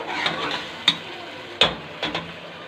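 Spices being stirred into frying onions in a pan, a steady sizzle with several sharp spoon scrapes and taps against the pot spaced through the stir.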